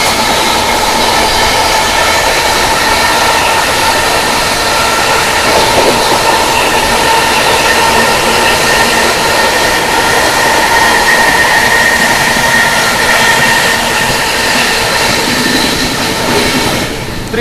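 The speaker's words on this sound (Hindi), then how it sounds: "यहाँ पर हम लोग ओवरटेक कर रहे हैं टनकपुर सिंगरौली त्रिवेणी एक्सप्रेस" Howrah Rajdhani Express running at high speed alongside and overtaking the Tanakpur–Singrauli Triveni Express near Vindhyachal, a loud continuous roar of wheels and rushing air with steady rail rumble throughout.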